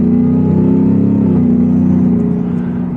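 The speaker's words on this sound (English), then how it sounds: "you get more supercharger whine in this than you do in like the Raptor R" A supercharged 785 hp Shelby Super Snake truck revs hard, producing a loud, sustained, close engine drone with a steady whine riding on top, with no talking.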